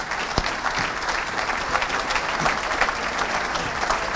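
An audience applauds loudly after a presentation, a dense and steady wash of clapping that fills the room with no talk over it.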